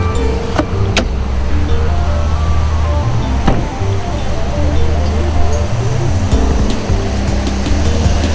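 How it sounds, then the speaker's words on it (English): The air conditioning in a 2007 Dodge Ram 1500 Crew Cab pickup runs as a steady, fairly loud blowing hum inside the cab, broken by a few sharp clicks and knocks along the way. "You hear that AC running"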